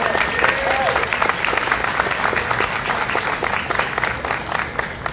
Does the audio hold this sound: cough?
no